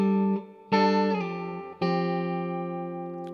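A ninth chord, with root, fifth and ninth, rings out on a clean electric guitar, struck three times with notes sustaining and slowly fading.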